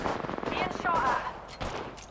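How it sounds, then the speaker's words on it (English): Rapid Apex Legends gunfire crackles in a fast burst, with a few more scattered shots trailing off near the end. "Being shot at."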